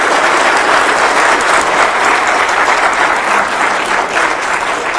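A large audience applauds loudly and continuously, a thick wash of clapping with no break.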